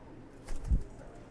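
Carl, a Nicobar pigeon, takes flight, giving a single short soft flutter of wingbeats with a low thump, close by and otherwise quiet.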